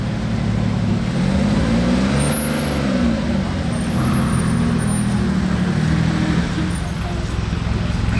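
A red Porsche 959 and a Maserati MC12 drive past on a snowy street in Saint-Moritz, a steady engine rumble swelling as they go by amid traffic noise, with voices over it.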